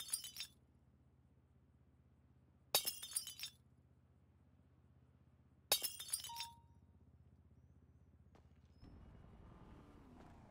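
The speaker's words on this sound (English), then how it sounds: "And go ahead and start smashing the case." Glass jewelry display cases smashed in FiveM, the GTA V roleplay mod: three sharp, loud shattering crashes a few seconds apart, each trailing into tinkling shards, with quiet background hum between them.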